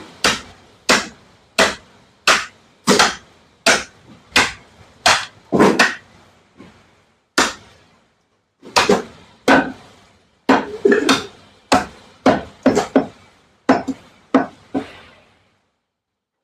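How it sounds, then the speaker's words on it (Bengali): Knife cutting through a beef leg steak joint, heard as a series of sharp, loud, close knocks against a board in an irregular rhythm with a few pauses; no talk. "এই যে দেখুন আমি স্টেকটা কাটলাম"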